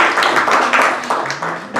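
A church congregation claps during a Men's Day Sunday morning service. The loud, lively clapping carries a loose rhythm of strong hand strikes over a continuous blur of many hands.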